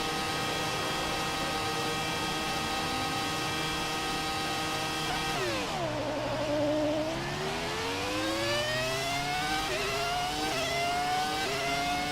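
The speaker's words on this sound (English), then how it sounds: "Listen to the sound of that roaring V10 engine." A high-pitched Ferrari V10 Formula 1 engine in a racing video game screams steadily, drops sharply as it downshifts, then climbs back up through the revs, loud and continuous.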